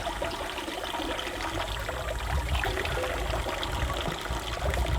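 Steady running water from a public drinking fountain in Switzerland, a continuous close splashing stream that holds an even level throughout.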